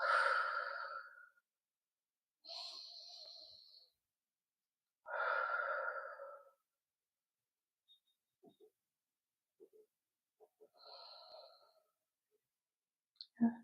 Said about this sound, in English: I want you to take 3 deep, relaxing breaths